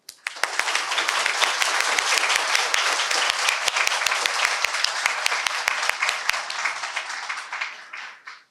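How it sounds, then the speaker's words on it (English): A full round of applause welcomes distinguished guests at a citizenship certificate ceremony in Surrey, loud, close and continuous, fading out near the end. "Please join me in a round of applause to welcome our distinguished guests."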